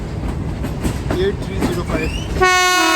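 The Kohat Express passenger train departing a station, rolling and rumbling nearby before a loud, sustained horn blast sounds close by near the end.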